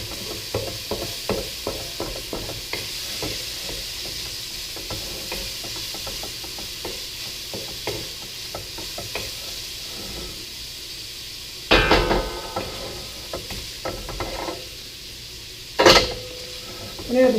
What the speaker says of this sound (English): I want to get the bacon nice and crisp